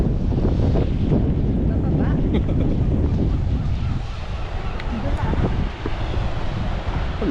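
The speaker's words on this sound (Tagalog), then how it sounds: "Ang lakas ng alon." Powerful sea waves surge and roar at a beach on Barry Island, buried under heavy wind buffeting on the microphone, with a muffled voice nearby.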